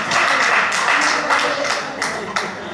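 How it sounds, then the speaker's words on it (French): An assembly audience at a coalition general meeting claps on cue, a burst of near, uneven hand claps with some louder individual strikes and light voices mixed in. "Vous pouvez applaudir maintenant."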